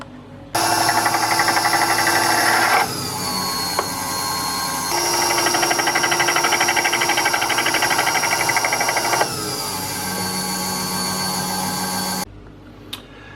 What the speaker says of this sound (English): probably mild steel is more at the top end of what this lathe is capable of cutting anyway